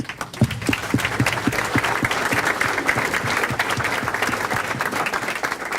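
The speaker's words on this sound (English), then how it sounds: "Please give yourselves a round of applause." Volunteers at an appreciation celebration give themselves a round of applause: a dense, steady roar of many hands clapping at once, holding full and even for several seconds.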